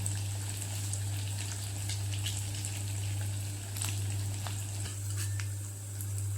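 Fasting balls deep-frying in hot oil, a steady close bubbling sizzle with scattered crackles and pops, heard alone over a low constant hum.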